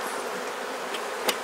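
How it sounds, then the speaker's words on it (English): Honey bees swarm and buzz around an opened hive during an inspection, a steady dense hum close by with no voices. "bees are everywhere"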